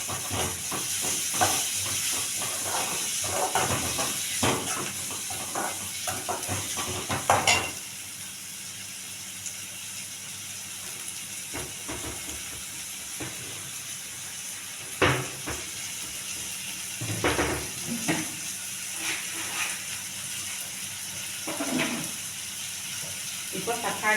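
Tomatoes and green chillies frying in a pan, a continuous hissing sizzle with bursts of stirring and scraping, moderately quiet and close, with a brief break in activity near the middle.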